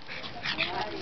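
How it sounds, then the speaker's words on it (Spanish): A small pug whimpers in short, high whines, faint and close, with people talking over it. "Y qué raza es Tyson? Carlino"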